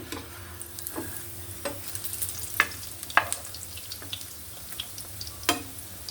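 A paratha sizzles steadily in hot oil on a stovetop, with a constant frying hiss and occasional sharp scrapes and taps of a utensil nearby.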